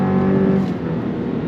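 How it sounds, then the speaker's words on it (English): A 2025 Chevy Colorado Z71 midsize pickup with an 8-speed automatic accelerates hard on throttle, its engine note rising as the transmission kicks down, loud and steady with no talking. "we're gonna go on throttle. You ready? On throttle, 8-speed drops down,"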